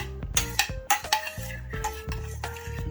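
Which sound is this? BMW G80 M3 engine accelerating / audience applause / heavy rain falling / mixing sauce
mixing sauce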